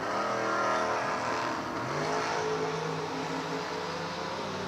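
A 1970 Chevrolet Camaro roars at a drag racing event, its engine loud and revving with rising and falling pitch as it accelerates, holding a strong, sustained note throughout with no talk over it.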